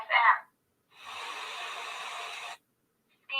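A handheld spirit box radio sweeps rapidly through stations, giving a steady hissing burst of static between short clipped fragments of broadcast sound at either end, close to the microphone.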